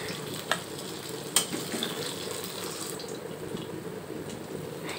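Paneer pieces frying in hot oil in a home kitchen, a soft continuous sizzle with a few sharp clinks of a utensil, fairly quiet and with no talking.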